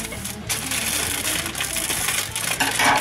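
Match Attax trading card multipack packaging being ripped open up close, a continuous loud crinkling, tearing rustle of plastic wrapping over about three seconds with no talking.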